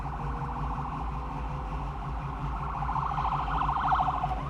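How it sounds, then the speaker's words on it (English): Emergency siren wailing steadily for several seconds, swelling slightly louder toward the end as it passes, with low traffic or engine rumble underneath and no speech. "I'm about to try to talk over a siren here."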